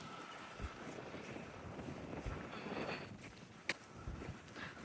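Steady gusting wind buffets the microphone, with broadband rumble and rushing noise throughout, plus a few brief knocks and a sharp click near the end.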